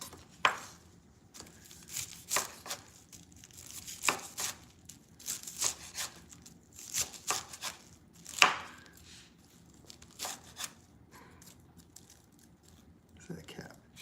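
A knife chops cabbage on a board for a steak dinner, in irregular bursts of crisp crunchy strokes with pauses, close and fairly quiet, while faint voices murmur in the background.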